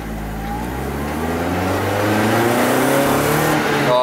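A cheap JDM Toyota Corolla drift car launches hard from a dead stop, its engine roaring steadily louder and rising in pitch as it accelerates through first gear, close and loud with no talking.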